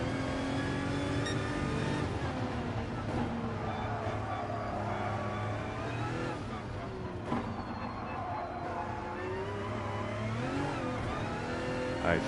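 A race car engine in Gran Turismo Sport's Group 1 endurance race at the Nürburgring GP circuit revs and shifts continuously, a loud, sustained whine rising and falling through the gears.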